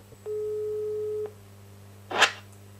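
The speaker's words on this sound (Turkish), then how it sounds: "Çalıyor." Steady electronic ringback tone of a phone call on speakerphone, one long continuous beep followed by a short burst of noise as the line connects, no voices.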